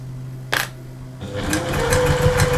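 Sewing machine stitching fur fabric for a cuddly toy bear, with a brief clack and then a steady nearby whir and rapid rhythmic needle chatter that builds slightly toward the end, with no voices.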